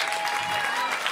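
Brief burst of clapping from a stand-up comedy club audience, dense and fairly loud for about a second.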